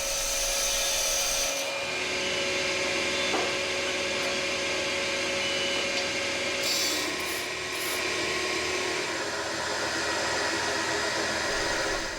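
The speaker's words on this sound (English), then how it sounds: "To decorate the drones, Ross shapes them with a chisel." Wooden bagpipe drones being shaped with a chisel, likely on a turning machine behind a guard: a loud, steady whirring drone with rough scraping layered on top, continuing unbroken with no voices.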